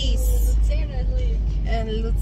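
Inside a vehicle driving on the road, a steady low rumble of engine and road noise runs throughout, with people talking over it.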